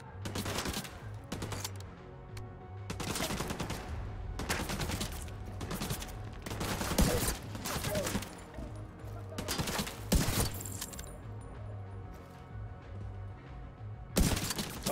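Bursts of rapid automatic gunfire from Tom Clancy's The Division 2 crack out in repeated volleys with short gaps between them, loud and close, over a steady low background hum.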